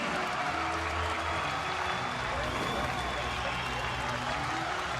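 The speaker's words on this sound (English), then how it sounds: "The crowd here at the Dunk welcoming Providence back onto the floor" A dense arena crowd at the Dunk cheers and applauds steadily throughout a Providence vs. Boston College basketball game, a broad continuous roar of clapping and voices with no pauses.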